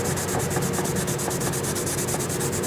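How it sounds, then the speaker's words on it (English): A Turtle Wax #3 sanding pad rubs over car paint in a steady, rhythmic back-and-forth scrubbing, loud and close with no voices. "here's how things look after sanding with the pad #3"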